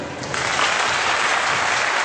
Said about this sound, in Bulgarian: Аплодисменти за господин Стоян Кранов.